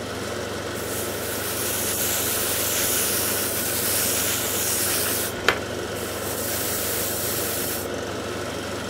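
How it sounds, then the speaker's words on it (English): An airbrush does a test spray of paint, a steady soft hiss running almost continuously for several seconds with one brief click midway, close and alone. "We'll do a test spray."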